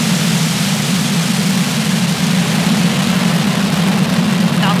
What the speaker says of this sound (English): ignition, engine full power, and liftoff of Falcon 9